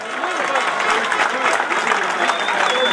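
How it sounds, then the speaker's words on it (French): Dense, steady applause from a crowd at a cycling criterium in Lisieux, loud and continuous throughout with a hint of a voice over the clapping. "à celui que vous pouvez applaudir plus fort encore, Sylvain Chavanel."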